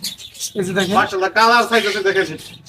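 Cockatiels calling at a crowded bird market in Bangladesh, a steady run of close, harmonic chirps and whistles overlapping through the whole stretch, with people's voices mixed in.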